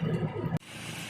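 A Fiat Doblo engine that had been smoking and refusing to drive runs at a steady, even idle with a low rumble, then cuts off abruptly just past midway into a flat, hissy background.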